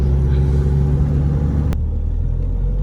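A Mahindra XUV500 engine running while driving in fourth gear, a loud steady low rumble inside the cabin with a brief click partway through, after which the higher road noise drops away.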